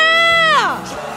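A street crowd of marchers at a candlelight impeachment rally in Hongdae, Seoul, letting out a loud drawn-out shout that falls away into scattered cheers and crowd murmur.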